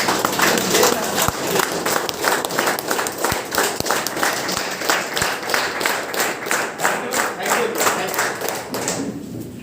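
A standing audience at a network marketing training meeting claps together in a strong, steady rhythm, loud synchronized beats repeating evenly for several seconds before trailing off.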